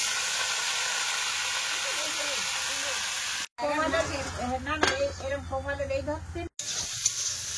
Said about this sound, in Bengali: তেল রয়েছে, এর মধ্যে আমি কলমি শাকগুলো দিয়ে দেবো।